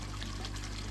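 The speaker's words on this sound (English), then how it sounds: "oxygenate the water that's returning back to your pond, which will blast across the top of your surface" Pond water returning through a Venturi system, a steady rushing splash of water close by, continuous and fairly faint.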